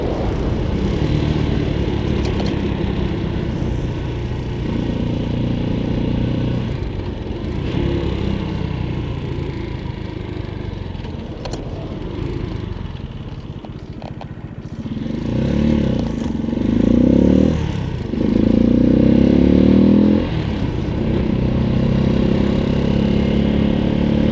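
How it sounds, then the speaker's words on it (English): A Halcyon 250 motorcycle rides along a road in Massachusetts, its steady mid-pitched engine drone running throughout with wind rush, easing off briefly midway before rising louder again near the end. "I was back on the road with Magic the motorcycle"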